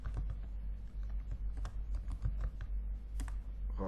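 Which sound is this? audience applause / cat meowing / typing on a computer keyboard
typing on a computer keyboard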